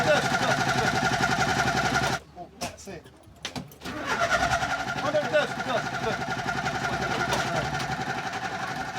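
A flooded coach engine repeatedly cranking and failing to catch, a rhythmic chugging whir that cuts out briefly before starting up again, with voices talking over it.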